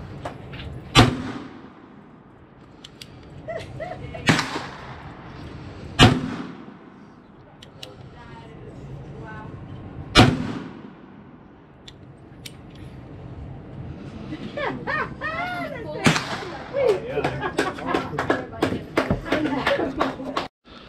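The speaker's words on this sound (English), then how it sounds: "Pretty fun revolver to shoot." Black powder six-shooter revolver fired outdoors in the woods: four sharp, loud shots spaced a few seconds apart, with people talking and cheering between and after them.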